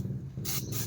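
Two short bursts of spraying, close and hissing, each lasting a fraction of a second, one right after the other over a low background hum.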